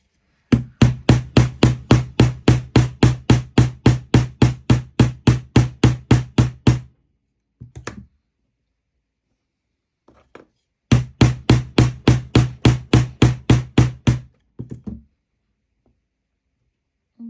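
Hammer blows striking a leather notebook, a long run of steady, rapid strikes close up, then a pause, a few scattered taps, and a second burst of evenly spaced blows.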